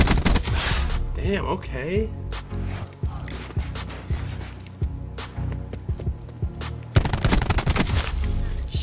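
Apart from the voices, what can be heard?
gunfire shots in a shooter video game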